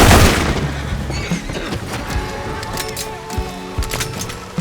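Semi-automatic shotgun fire in Red Dead Redemption 2, with loud, sharp blasts in quick succession and rumbling booms over a busy game soundscape.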